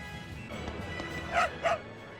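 Two short, sharp dog barks from a dog character in the video game Tales of Berseria, close and clear over soft in-game background music.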